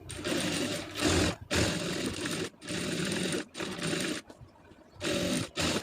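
A sewing machine stitches blouse fabric in a series of short, close bursts, each lasting about a second, separated by quick stops, loud and alone.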